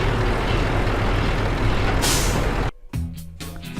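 A truck's air suspension lowers in Euro Truck Simulator 2 with a loud, sustained pneumatic hiss that cuts off abruptly, followed by a few quieter clunks and hisses.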